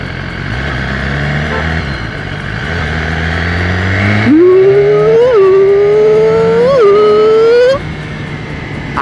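A motorcycle engine revs hard up through the gears with a quick shifter, its rising pitch dipping briefly at each rapid shift, loud and close before it settles back to idle.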